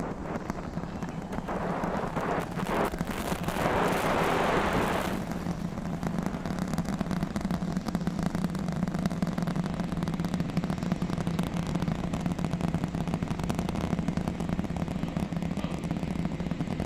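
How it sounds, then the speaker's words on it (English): SpaceX Starship Super Heavy rocket with its Raptor engines lifting off from Texas, a dense continuous rumble and crackle heard from a distance, swelling over the first few seconds and then holding steady as a loud, unbroken roar. "The rumbles are still building here in the Raptor's nest. We're seeing 32 out of 33 engines lit on the Super Heavy right now."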